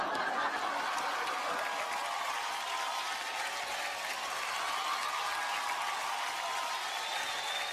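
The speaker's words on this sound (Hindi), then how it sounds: "इस टीम के लिए जोरदार तालियां होनी चाहिए।" Steady applause from an audience fills the space, a dense, even wash of clapping that continues without a break, fairly distant.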